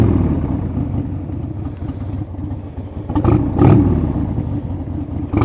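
A 20-year-old limited edition motorcycle's engine idles steadily while warming up, a low continuous rumble with a couple of brief revs swelling midway.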